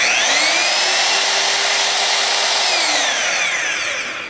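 DeWalt DWE1622K magnetic drill motor running, a loud steady high-pitched whine with a rising then falling tone, close up and continuous with no voices.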